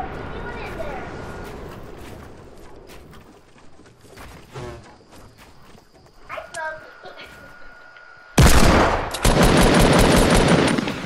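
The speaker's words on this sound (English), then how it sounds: "I got the rocket launcher out." Rocket launcher fire in Fortnite, with loud sudden bursts of explosive gunfire near the end following quieter in-game sounds and a player talking over them.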